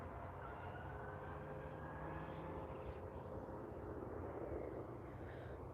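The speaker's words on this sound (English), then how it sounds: "It's going to be a Flair Airline 737 MAX 8" A Flair Airlines Boeing 737 MAX 8 on short final approach at Vancouver International Airport, a steady broad engine roar holding at moderate distance with no voices.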